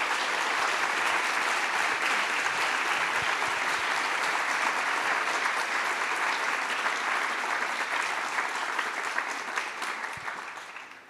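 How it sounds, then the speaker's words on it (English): Sustained applause from an audience thanking four professors on a panel about Christians and politics, a steady dense roar of clapping that holds for several seconds and then tapers off. "Would you all give a round of applause for our panelists?"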